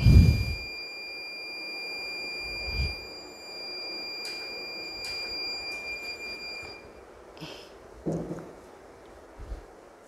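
SONIC N1-7 weighing scale indicator sounding its alarm, a continuous high electronic tone held for several seconds before cutting off, with scattered handling knocks and clicks around it.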